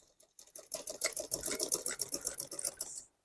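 A sewing machine stitching fabric while the cloth is turned to follow a shape, giving a quick, steady run of mechanical clicks and whirring pulses for about three seconds before stopping.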